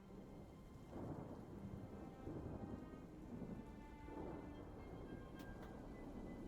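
A steady rain and thunder ambience loop in a video game set in the woods. Continuous rainfall hisses throughout while a few soft rumbles of distant thunder swell underneath.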